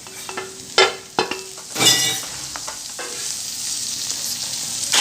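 Capsicum, carrot and corn being stirred in a hot pan for white sauce pasta, with a steady sizzle and several sharp spoon scrapes and clacks against the metal early on, no voices.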